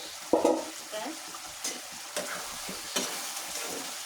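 Beef sizzles as it is sautéed (koshano) in a pan, a steady frying hiss broken by a few louder stirring scrapes, close and moderately loud with no speech.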